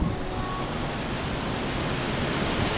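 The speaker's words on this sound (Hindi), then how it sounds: "सो हम पंचकुला वाटरफॉल पहुँच चुके हैं, और ऊपर वाटरफॉल है शायद ये।" Panchkula waterfall in Himachal Pradesh pouring steadily, heard up close as a dense, unbroken roar of rushing water with no talk.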